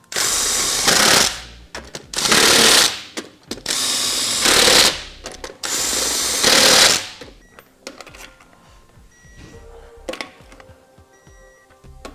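An impact wrench tightens the wheel lug nuts on a 2015 Ford F-150 in four loud rattling bursts of about a second each, followed by quieter clinks and handling noises.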